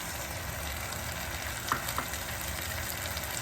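Green onions sizzle in a hot pan for oxtail tacos: a steady, close frying hiss runs throughout, broken by two light clicks near the middle.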